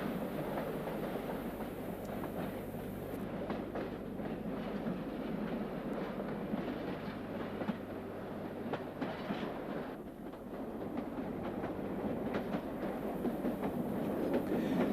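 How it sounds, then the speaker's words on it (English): A diesel multiple unit train runs over the London line from the former Victoria Park Junction to Stratford, a continuous loud rumble with a low engine drone and rhythmic wheel clatter throughout, heard from inside, no speech. "We now travel on a DMU over the route linking the former Victoria Park Junction with Stratford"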